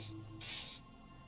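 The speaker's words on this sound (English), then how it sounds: "Douses me with an odd-smelling spray, a double helping as you present your other armpit" Two short hissing bursts of aerosol spray on armpits in the detective role-playing game Disco Elysium, the second longer and stronger, quiet and close with no speech.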